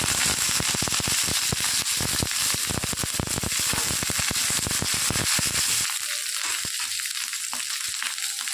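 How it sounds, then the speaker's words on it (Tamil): Mustard seeds and urad dal spattering in hot oil, a loud, busy sizzle full of rapid sharp pops that eases into a quieter, thinner hiss toward the end. "எண்ணெய் சூடாயிடுச்சு. கடுகு போட்டுக்கலாம், கொஞ்சம் உளுத்தம்பருப்பு போட்டுக்கலாங்க"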